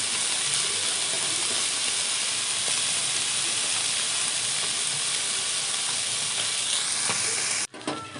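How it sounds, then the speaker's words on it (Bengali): Lote fish fries in a little hot oil, a loud, steady sizzle and hiss that carries on without break, then cuts out abruptly at the very end. "কড়া গরম হওয়ার মতন হালকা সামান্য তেল দিয়ে এই মাছটাকে ভাজতে হয়।"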